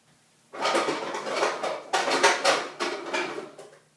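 Cooking pans in a $50,000 home kitchen are pulled out and handled. They give off rattling metallic clanks and scrapes in several close, loud bursts over a few seconds, with no voices.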